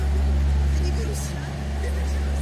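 A tractor's steady, deep diesel-like engine drone runs throughout, loud and close, on an evening city street in central Lviv where skaters are gathering. Voices talk over the rumble.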